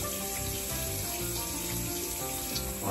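Water runs steadily from a bathroom tap while someone washes their face, a close, constant splashing hiss with no talk.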